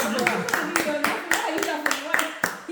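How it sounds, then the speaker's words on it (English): Audience hands clapping for a speaker at a California public speaking workshop: a run of sharp, uneven claps under steady close talking and voices. "please clap for her"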